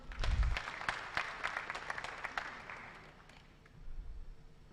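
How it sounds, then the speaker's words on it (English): Audience applauding for a choir at an ombudsman award ceremony, a burst of dense clapping that gradually thins and fades, with a low rumble underneath. "Round of applause for the choir"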